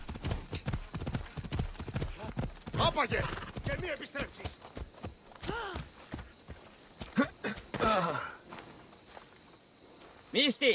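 Horse hooves clip-clop steadily while a horse is ridden in the video game Assassin's Creed Odyssey, a close and even rhythm of hoofbeats that continues under voices talking.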